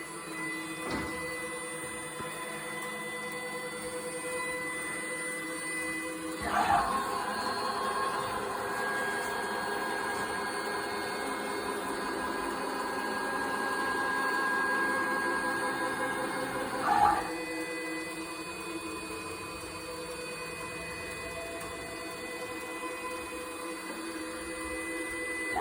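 Bridgeport CNC mill running an oil warm-up routine across its ways, a steady mechanical hum and whir that swells louder for about ten seconds in the middle, with brief thumps as the motion starts and stops.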